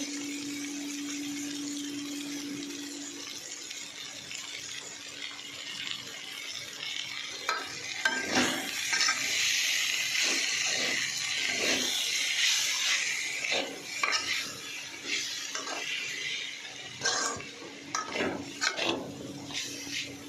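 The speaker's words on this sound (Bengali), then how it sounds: "আমার বরবটি ভাজা হয়ে এসছে।" Yardlong beans with chili powder stir-fry in a pan, a steady broadband sizzle running throughout with repeated scraping and clinks of a spatula against the metal in the second half, close and fairly loud with no talking.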